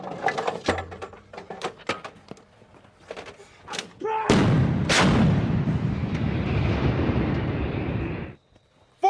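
A U.S. Marine M777 towed 155mm howitzer fires a live high-explosive round during a live-fire exercise. Sharp shouted commands give way to one huge, close blast whose rumbling echo rolls on for several seconds before cutting off.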